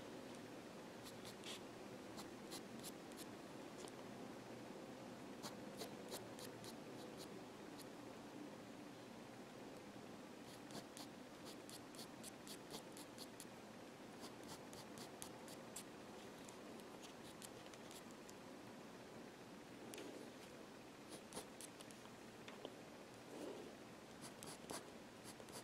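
A soft Faber-Castell Polychromos pencil drawing fur strokes on paper, producing quiet, continuous scratchy scribbling in quick repeated bursts, close and faint with no talk.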